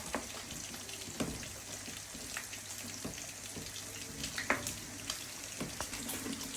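String beans fry in a pan for a Filipino home-cooked dish, a steady low sizzle running throughout while a utensil stirs with scattered clinks and scrapes against the pan.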